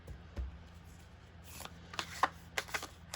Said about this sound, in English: We'll shuffle this way. I cannot shuffle sideways.